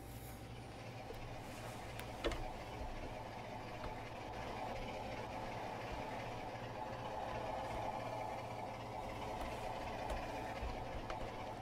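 A British locomotive runs in a train simulator game, giving off a faint, steady engine drone with low idling hum and occasional light clanks, no talk.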